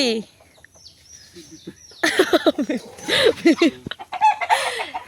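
Chickens at a poultry house, several birds clucking and squawking in short bursts close by, with a rooster-like call near the start and people talking faintly around them.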